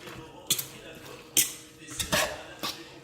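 Spoon stirring potato pancake batter in a bowl, making several sharp, close clinks and scrapes at irregular intervals against a quiet background.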